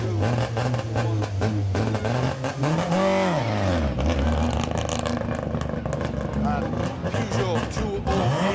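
A Peugeot 208 rally car starting a stage at the West Cork Rally, its engine revving hard and rising in pitch as it pulls away, loud and close, with a commentator's voice over it.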